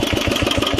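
Old Japanese generator and welder engine running, a steady close mechanical chug with a fast regular pulse, loud and alone.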